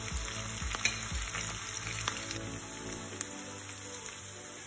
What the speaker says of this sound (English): allow it to cook for a few minutes until the onions are translucent and some of them are light golden color